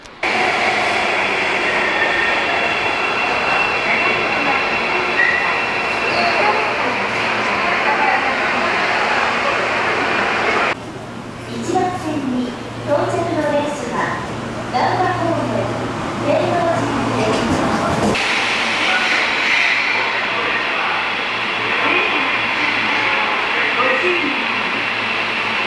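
An Osaka municipal subway train rumbles steadily and loudly for the whole stretch while it rides along, and someone speaks over the noise in the middle section.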